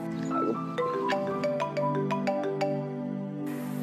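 A mobile phone ringtone plays a bright electronic melody of stepped, sustained tones, fairly loud and close, before cutting off abruptly near the end, with no talking.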